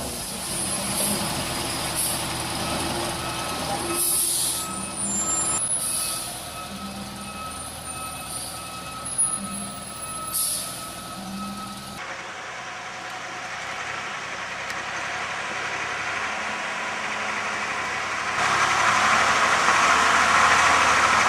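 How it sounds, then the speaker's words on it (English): Heavily loaded monster truck piled with big tree logs strains to climb a slope, its engine droning steadily with a low rumble and a shift in tone partway through, no talk. "the monster car failed to climb over the slope"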